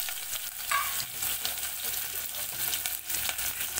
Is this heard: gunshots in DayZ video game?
no